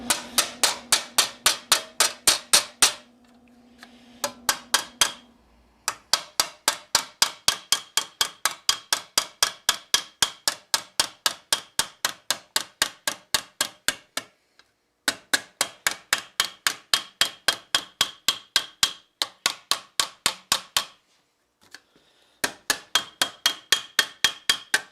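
Sharp, rapid hammer strikes ring on steel as the cuff of a Milanese mitten gauntlet is rolled, fast regular bursts of blows broken by short pauses, loud and close.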